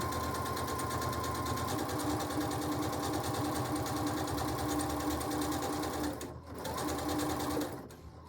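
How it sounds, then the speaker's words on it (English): A sewing machine runs steadily, stitching a quilt square in a continuous whir with a fast rhythmic needle pattern, loud and close, slowing and pausing briefly near the end. "Lower our presser foot. And just kind of guide it along."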